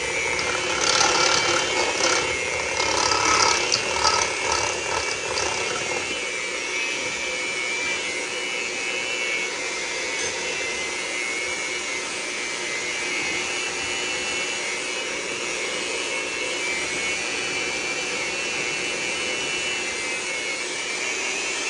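An electric mixer beats cake batter with a loud, steady whir, slightly rougher with rattling for the first few seconds and then smooth and continuous to the end.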